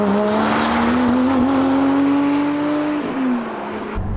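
Porsche Spyder with a new aftermarket exhaust drives hard, its engine holding a loud, steady rising drone that climbs in pitch, then drops off briefly near the end as the revs fall.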